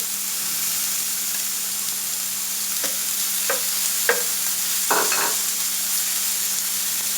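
Sliced pork belly fries in a hot wok with a steady, close crackling sizzle, broken by a few short scraping clicks of stirring in the second half.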